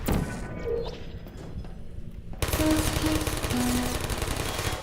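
Turret gunfire in the puzzle game Portal, a sudden loud dense rattle of rapid shots that breaks in after a quieter stretch and continues steadily.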